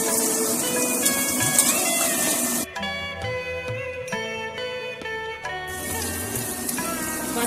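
Chicken kosha sizzles and fries in a pan with a steady close hiss, briefly giving way to tuneful background music in the middle before the frying noise returns.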